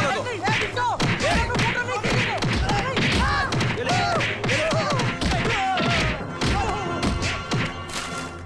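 Punches and thuds ring out in a Hindi movie fight scene: dense rapid impacts, whooshes and crashes hit loud and close in quick succession, mixed with shouting voices throughout.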